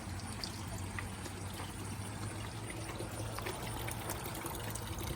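Water poured by hand into a backyard pond to reoxygenate it, giving a steady faint splashing trickle at moderate distance with no talk.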